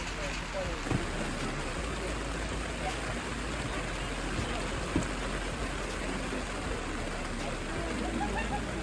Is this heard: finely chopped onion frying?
no